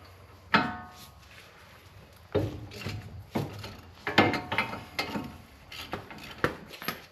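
Four hub bolts come off a 2004 Infiniti FX35 during a CV axle repair, heard as scattered metallic clanks, ratchet clicks and handling knocks at close range with no talking.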